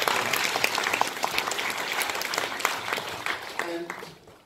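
Theatre audience at a Johannesburg book launch clapping, a dense, lively burst of applause that holds steady then tapers away near the end, with a voice starting to speak as it fades.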